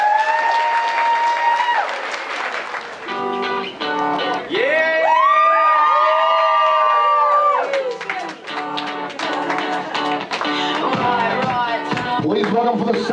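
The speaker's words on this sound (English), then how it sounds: "How about a nice round of applause for all of you making it out to celebrate with our newlyweds." Wedding guests clapping and whooping at a reception, with loud music and sustained tones riding over the applause throughout.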